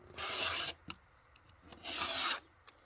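A rotary cutter trimming the edge of a fabric quilt block, two close rasping strokes of about half a second each, with faint clicks in between and no talking.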